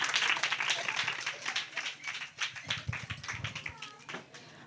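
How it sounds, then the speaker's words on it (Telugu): Fairly faint clapping from an audience at a church Christmas celebration follows a skit, a run of scattered sharp claps mixed with talking voices. "ఈ రాజుని ఒకసారి వారు చేసిన స్కిట్ కోసం ఒకసారి గట్టి క్లాప్స్"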